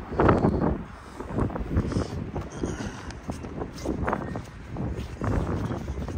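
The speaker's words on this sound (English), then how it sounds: "wind, it's not giving up." Strong wind gusts during a snowstorm in Mammoth Lakes, California, a continuous rough buffeting rumble that swells and eases over several seconds.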